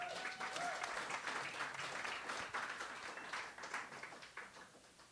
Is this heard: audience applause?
yes